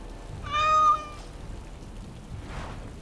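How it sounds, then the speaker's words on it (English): A tabby kitten in the video game Dragon Age: Origins Awakening gives one clear meow near the start, with a faint rain-like patter continuing quietly behind it. "An adorable tabby kitten."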